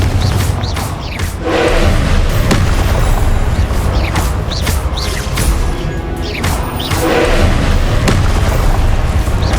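Repeated Confringo blasting-spell explosions from Hogwarts Legacy, loud booming crashes piling up in close succession over a dense, roaring game soundscape.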